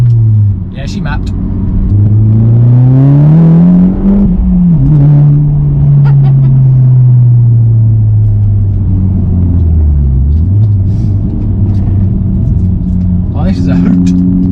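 A mapped Audi S1 hatchback accelerating on the road, its engine droning close and loud as the pitch rises and falls through gear changes, with people speaking over it inside the car.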